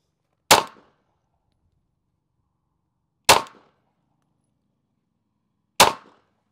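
Three sharp 9mm pistol shots from a CR920 firing 124 grain Fiocchi ammunition, evenly spaced a few seconds apart, each a loud crack with a quick decay and silence between.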